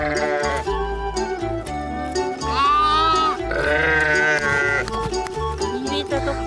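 Sheep bleat at a summer mountain pasture camp, several wavering, overlapping calls close by, repeated through the clip with a steady background of other livestock and camp noise.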